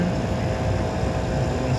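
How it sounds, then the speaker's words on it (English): A Westinghouse fan motor runs inside a 1973 Emerson Quiet Kool air conditioner, giving a steady, loud, even hum and airy whir with no breaks. "Westinghouse fan motor."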